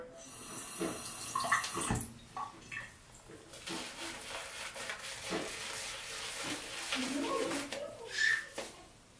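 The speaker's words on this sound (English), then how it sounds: "Add a little bit of water." Water trickles and splashes close by as it is added to shaving soap being lathered for an injector-blade shave, with brief wet squelches and clinks, soft and intermittent.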